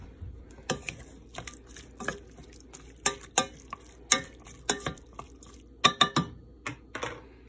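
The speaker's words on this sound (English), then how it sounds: "I mixed everything together." Chili with peppers stirred in a pot, a spoon scraping and clacking against the sides in irregular sharp knocks with wet squelching between, close and fairly quiet.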